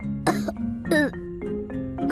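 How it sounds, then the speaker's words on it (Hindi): A young girl coughs several times in short bursts during a doctor's stethoscope check-up, close and clear with a soft throat-clearing quality between the coughs. "जरा थोड़ा सा खांसना।"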